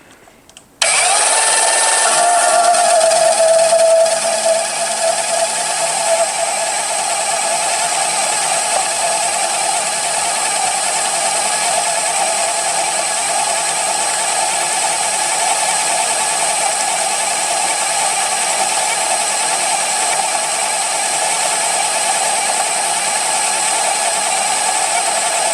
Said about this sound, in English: here we have the Metabo on some 3/4 inch all thread. This is on the lowest setting